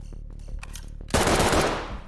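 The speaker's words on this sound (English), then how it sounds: "He's shooting through the wall." In a first-person shooter game, a burst of gunfire through a wall erupts suddenly after a second of quieter clicks and muffled sounds, loud and close, then fades slightly.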